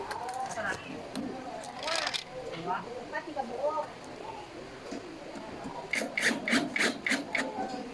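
A metal three-drawer gray mobile pedestal is assembled by screwing in its parts. Scattered rubbing and rasping scrapes run under a voice, then a faster run of sharp grinding bursts comes near the end.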